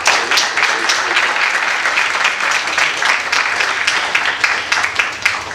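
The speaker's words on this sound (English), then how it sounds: "let's give a round of applause for Navina." Loud, dense applause from an audience at an evening talk, many hands clapping steadily for several seconds with no voices over it.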